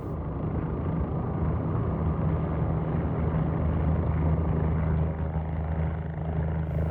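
Steady, loud rotor drone of an OH-58 Kiowa helicopter in a flight simulator, a constant low thrumming hum that holds evenly throughout with no talk.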